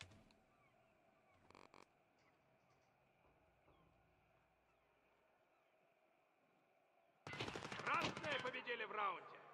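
In Escape From Tarkov Arena, a video game, a short clattering burst comes early over quiet ambience, then a loud, dense stretch of gunfire erupts near the end.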